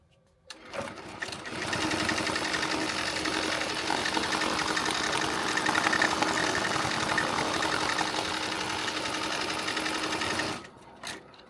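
A Tajima embroidery machine stitching a faux leather applique patch runs at a steady rapid clatter for about ten seconds, loud and close, starting and stopping cleanly with no voices.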